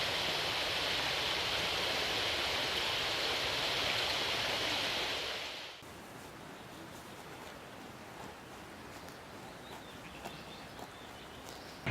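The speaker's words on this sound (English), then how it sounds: "We're just making our way now along by the River Derwent" The River Derwent flowing in the Lake District, a loud broad rushing of water that drops to a quieter, more distant murmur partway through, with no voices.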